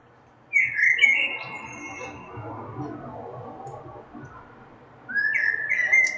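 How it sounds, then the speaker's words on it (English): Two short bursts of bird chirping, near and clear, separated by a stretch of quieter low background rumble. "Y'all hear the birds, right?"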